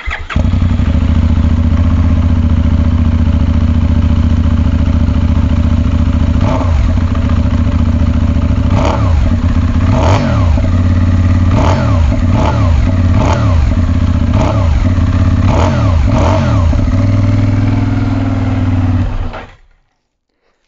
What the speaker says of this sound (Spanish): Vamos a arrancarla para escucharla un poquito a ver qué os parece.